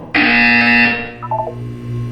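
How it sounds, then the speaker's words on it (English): In the Portal 2 video game, a loud, harsh electronic buzzer sounds alone in one sustained blast of just under a second, followed by a short series of soft descending tones and a low lingering hum. "You will hear a buzzer. When you hear the buzzer, look down at the floor."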